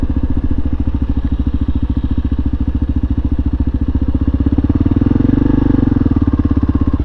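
Kawasaki KLR650 motorcycle idling close by on a snowy, icy stop, a steady loud thumping single-cylinder pulse that swells slightly in pitch near the end, with no talk.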